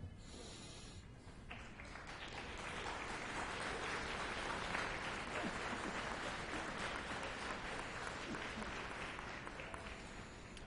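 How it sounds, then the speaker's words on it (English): Sustained applause from graduates rising to clap for their families at a college graduation ceremony, a dense roar of many hands that swells and holds steady for several seconds, without speech over it. "I would like all the graduates to rise, turn, face your family, your parents, your partners, your friends, and applaud them"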